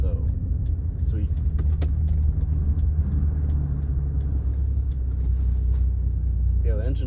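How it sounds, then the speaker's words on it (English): A 1989 Chevrolet Sprint's engine idles steadily with a low rumble, its revs rising and falling slightly when not under load, close by with no talking. "the engine does like to rev a little bit higher and bounce up and down when it's not under load"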